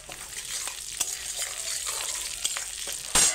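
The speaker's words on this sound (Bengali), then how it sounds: "এবার ওই তেলের মধ্যে আমি জিরে আর একটা শুকনো লঙ্কা ফোড়ন দিয়ে দিলাম।" Cumin seeds and a dried red chilli tempering in hot oil for a Bengali potol chingri dish, a steady close sizzle with brief crackles and stirring scrapes, ending in a louder burst of spitting.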